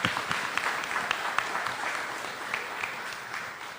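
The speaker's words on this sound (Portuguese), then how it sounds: "eu peço uma salva de palmas muito bonita para" Enthusiastic applause from the congregation at an ecumenical church service opening a senior citizens' week; dense, steady clapping with a few sharper claps, moderately loud and fading slightly toward the end.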